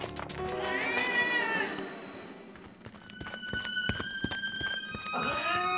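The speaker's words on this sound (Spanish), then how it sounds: "¡Oh, cielos! ¡Aquí hay un gatito!" A kitten trapped inside a stuffed animal meows repeatedly, drawn-out plaintive cries close by, with soft thumps and shuffling between the calls.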